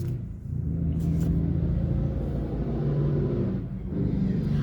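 A big truck rumbling past outside, a steady low, heavy drone that swells and holds at moderate loudness from a little way off, with no voices.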